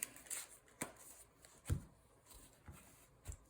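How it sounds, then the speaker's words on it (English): Trading cards for Magic: The Gathering being shuffled by hand in brief, scattered riffling bursts with soft snaps between, close and quiet with no talking. "We both shuffle."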